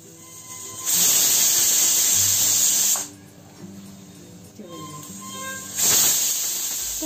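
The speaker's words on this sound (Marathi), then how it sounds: "इथे आपण कुकरला मस्त 4 शिट्ट्या करून घेतल्यात" A pressure cooker whistles while cooking kokum curry: two loud, sustained hissing bursts of steam, each a couple of seconds long, with a quieter background between them and no talking.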